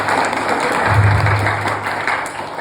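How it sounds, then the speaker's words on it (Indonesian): Steady, dense applause from a youth audience at a church youth jamboree, sustained and fairly loud for the whole stretch, with a low hum underneath. "tepuk tangan buat kita semua dulu"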